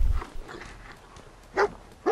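A dog in the video game Fallout 4 barks twice, two sharp, close bow-wow barks near the end after quieter rustling and soft whines.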